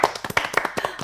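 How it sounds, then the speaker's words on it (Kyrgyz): A studio audience at a comedy talent show claps in a quick, steady patter of sharp, close hand claps, about a dozen distinct hits with no voices over them. "Сезимге рахмат, кол чабуулар."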